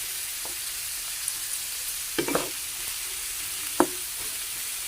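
Small unpeeled shrimp sauté in a pan with a steady bright sizzle throughout, broken by two short bursts of utensil scraping and clatter as they are stirred.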